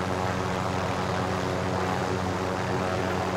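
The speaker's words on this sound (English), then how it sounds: "You got a backup chopper." Helicopter rotor and engine noise from Call of Duty Warzone gameplay, a steady, dense whirring drone that stays loud and constant throughout with no talking.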